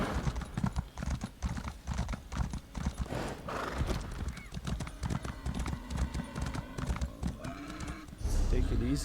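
Steady clip-clop of horse hooves at a brisk rhythm in a video game, with an occasional whinny, close and continuous throughout.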